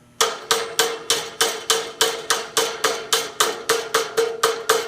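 Steady, evenly spaced hammer blows on a plastic part during assembly, about three strikes per second, each a sharp close knock with a short ring, with no talking.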